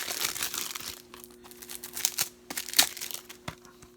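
Plastic wrap crinkles and tears as a physical limited-edition copy of the game The Messenger is unwrapped, close and irregular rustling with a few sharper crackles, no speech.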